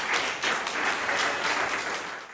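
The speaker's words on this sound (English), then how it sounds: "I just hope you can all just give an applause to this awesome panel." An audience at a cannabis culture and business expo applauds a panel discussion, a short burst of dense, fairly distant clapping that holds steady and then begins to fade.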